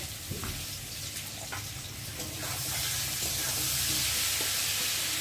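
Ginger, cumin, garlic and onion pastes with tomato frying in a pan for an egg curry, a steady sizzle that grows louder and denser toward the end, with faint clinks and no talking.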